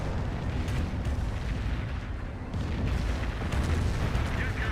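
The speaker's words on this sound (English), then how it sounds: "Here comes the Calliope rocket barrage." Calliope rocket barrage pounding the ground in Company of Heroes, a continuous roar of overlapping explosions and booms that rumbles loudly throughout, with a voice talking over it.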